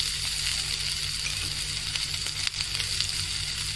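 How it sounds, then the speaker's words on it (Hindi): Half an onion sautéing in a pan with cumin, ginger, garlic and chili, a steady close sizzle with faint stirring scrapes throughout. "हाफ ऑनियन सॉटे कीजिए ब्राउन होते तक"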